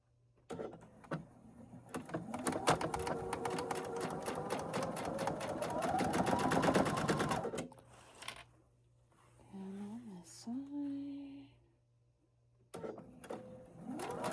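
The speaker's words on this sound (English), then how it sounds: "I'm going to go ahead and top stitch that to keep it from moving on me" A sewing machine top stitches a folded quarter-inch seam with a fast, steady mechanical whir and needle rattle that runs for about seven seconds and then stops, after which a person speaks.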